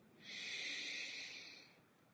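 A slow, deep breath drawn in during a guided breathing exercise, a close, airy hiss that swells, holds for over a second and fades, alone with no talk.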